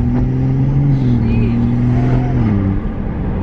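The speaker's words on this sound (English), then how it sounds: "I don't know if you guys can hear it, but it's like super throaty." A tuned BMW F30 sedan holds a loud, throaty engine drone with a deep exhaust note that swells and eases slightly, heard close and continuous, with a voice faintly beneath.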